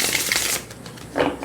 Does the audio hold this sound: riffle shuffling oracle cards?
yes